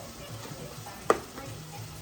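Chicken sizzles steadily in a hot pan, a constant faint frying hiss with one brief clink near the middle and no talking.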